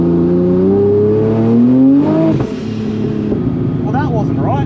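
A turbocharged car launching on PSR radial street tyres with nitrous and anti-lag, its engine rising steadily in pitch, then breaking into rough popping and a lower drone, loud and close.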